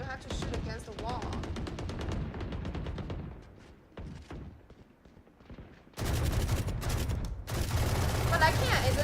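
Video game target shooting produces sustained rapid automatic fire, loud and continuous, fading briefly to a lull before resuming at full intensity.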